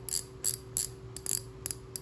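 A Daiwa spinning reel, size 2000, clicks through its bail and anti-reverse ratchet in several quick bursts of sharp, close ticking, alone with no voices.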